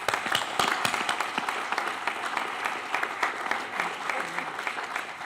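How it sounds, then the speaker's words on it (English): An audience at a Buffalo Board of Education meeting applauds Officer Diaz with loud, sustained clapping from many hands that holds steady throughout. "if we can all applaud him"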